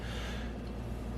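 A deep, steady inhale during a breathing exercise, heard close and clear as a rushing breath for about a second.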